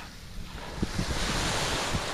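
Calm sea washing gently onto the shingle of Chesil beach on a still evening, a steady soft surf hiss with light wind noise on the microphone and no voices.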